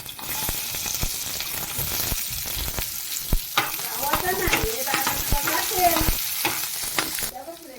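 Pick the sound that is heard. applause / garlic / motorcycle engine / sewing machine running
garlic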